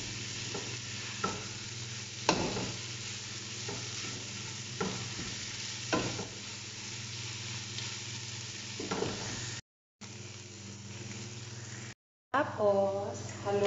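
Chicken hotdogs fry in a pan with a steady sizzle and repeated scraping stir strokes, close by, with short breaks in the sound near the end.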